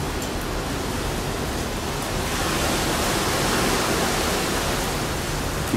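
Steady, even rain in foggy Shanghai with a broad wash of noise, constant throughout with no voices or distinct drops standing out.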